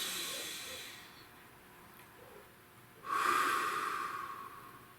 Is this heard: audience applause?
no